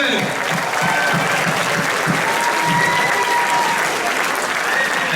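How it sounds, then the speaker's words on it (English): Steady, full applause from a showcase audience fills the room for a performer, dense clapping that holds at an even level throughout. "Nice round of applause for Devin."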